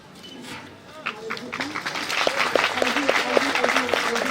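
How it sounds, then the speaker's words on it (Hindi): A crowd at a Jain diksha ceremony breaks into applause that builds from quiet to a steady, dense clatter of many hands, while a voice speaks over it. "जोरदार तालियों से"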